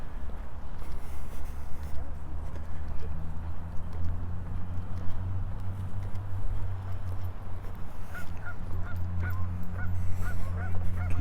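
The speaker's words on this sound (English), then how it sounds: "Geese over there." Geese honk repeatedly at a distance by a lake in Regina, their calls cutting through a low steady rumble of outdoor ambience.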